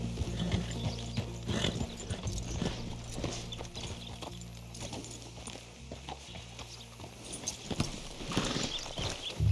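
Horse hooves clip-clop in an uneven walking rhythm, fairly close, with a brief whinny and some rustling in the background, in the video game Red Dead Redemption 2.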